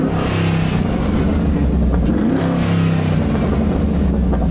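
A Pontiac G8 GT engine revs hard from inside the car, a loud, sustained roar with throttle-body and intake noise swelling and settling slightly, with no talk over it.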